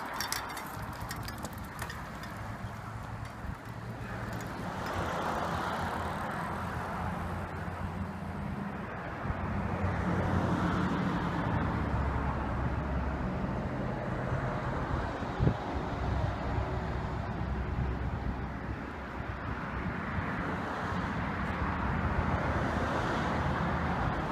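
An electric bike is ridden around outdoors, with a continuous rush of wind across the microphone over a low, steady motor and road rumble that swells and eases as the ride goes on.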